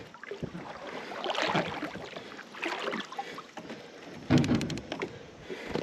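A small Native Watercraft fishing boat is moved across the water with close rustling, scraping and hollow knocks, then a sharper clunk near the end, all without speech.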